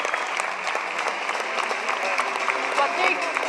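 An audience claps steadily for a rider after a failed section at a motorcycle trial event, a dense, even patter of many hands at moderate distance lasting throughout.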